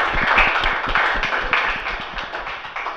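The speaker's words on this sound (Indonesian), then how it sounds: "Kita beri tepuk tangan untuk kelompok 1" Students in an Indonesian classroom clap for a presentation group, a dense burst of close, quick hand claps that slowly thins and fades over a few seconds.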